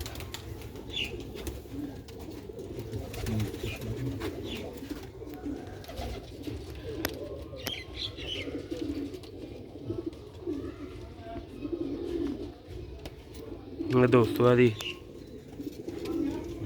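Sialkoti pigeons coo in a loft, soft repeated throaty calls rising and falling throughout, with a louder burst of cooing near the end, heard under someone talking.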